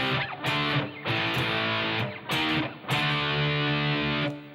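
Distorted electric guitar plays a rock riff in a changed rhythm, with several sustained chords broken by brief gaps, loud and alone.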